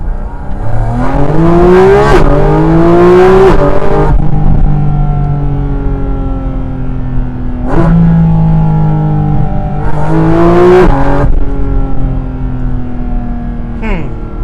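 A Porsche GT4 RS Weissach's flat-six engine revs loudly from inside the car, climbing in pitch through gears with sharp upshift breaks and repeated pulls, dominating the whole stretch.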